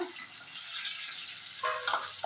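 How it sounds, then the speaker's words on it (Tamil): Onions sauté in hot oil with cumin, dried chillies and curry leaves, giving a soft, continuous hissing sizzle that briefly brightens with a few stirring clatters near the end. "இப்போ பாருங்கள், இது வதங்கிட்டு இருக்கு இல்லைங்களா"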